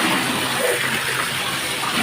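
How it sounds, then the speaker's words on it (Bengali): Tap water running into a bucket, a continuous close gushing splash that stays loud and even throughout. "এরকম করে আমার পানি নিতে হবে।"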